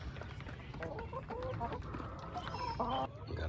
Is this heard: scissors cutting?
no